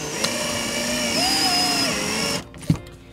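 A power drill drives a screw into a hatch cover deck, tightening it to pull the deck down. The motor gives a close, steady whine for about two seconds and then stops, followed by a faint click.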